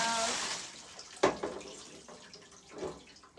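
Water from an oven's drip tray splashes out in a short pour, with a brief gush and a few trickles and drips, close and fairly quiet.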